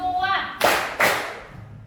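A standing group, apparently a class, claps hands in a counted pattern: two sharp, loud claps spaced about half a second apart, following a spoken count.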